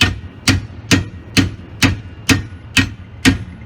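Steady, loud hammer strikes on leaf spring hardware during a suspension install, eight evenly paced metallic-edged thuds close to the listener with no talking.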